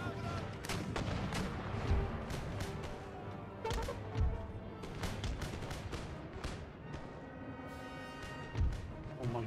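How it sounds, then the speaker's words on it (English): Cannons boom on a gunpowder-era battlefield in Empire Total War, with several deep thumping shots spaced seconds apart over dense, crackling musket fire and battle noise. "All my cannons to keep engaging the native bowman auxiliary."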